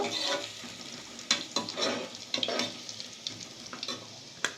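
Garlic and ginger frying in a pan for a chicken curry, a steady close sizzle broken by sharp utensil clinks and stirring scrapes, with no talking.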